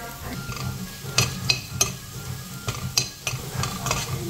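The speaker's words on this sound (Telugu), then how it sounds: "పుదీనా పేస్ట్ కూడా ఫ్రై అయిపోయిందండి" Mint paste sizzles and fries in a pan, with a utensil stirring and scraping against the metal in irregular bursts over a soft, constant crackle.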